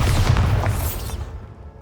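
A Bombarda spell explodes in Hogwarts Legacy with a single loud, low boom that rumbles and decays quickly into quiet.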